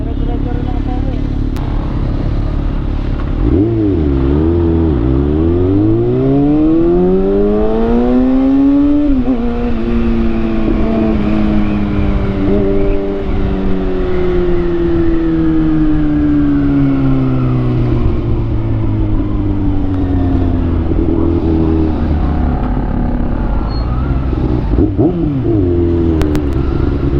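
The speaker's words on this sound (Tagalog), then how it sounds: "Nagsimula na ang traffic" Road traffic builds as cars and motorcycles accelerate past, with engines audibly rising and falling in pitch as they rev through the gears, close and loud. People talk over the steady roar.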